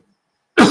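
A single sharp, close cough breaks out after near silence.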